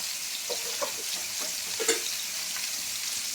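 Cumin, turmeric and chili powder fry in a pan, giving a soft continuous sizzle broken by a few small pops and stirring scrapes, close and fairly quiet with no talking.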